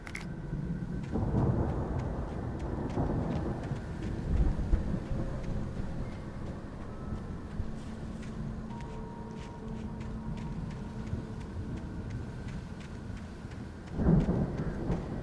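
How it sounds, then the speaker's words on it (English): A thunderstorm rolls through in the game Alan Wake Remastered, with steady rain hiss and low rumbling thunder throughout, swelling into louder crashes near the start and again near the end. "The storm raged on"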